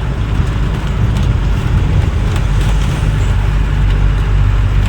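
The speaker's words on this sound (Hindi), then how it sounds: "वरना तो ये रोज़ की ऐसे ही ट्रैफिक रहेगी" Dense road traffic rumbles loudly and continuously, with cars, buses and trucks passing close by in a steady, low engine drone.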